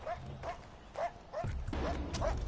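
A dog barks repeatedly in the video game Far Cry, giving roughly six quick yappy barks in a steady rhythm, fairly close and moderately loud over a low background rumble.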